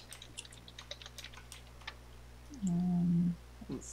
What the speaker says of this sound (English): Hopefully you're seeing my typing.